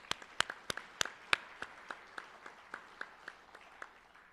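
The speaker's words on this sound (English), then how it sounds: "Let's give her another round of applause." Applause for a scholarship recipient at a high school senior awards ceremony: a small, fairly quiet group claps in distinct, spaced-out strikes that grow sparser and softer until only a few isolated claps remain.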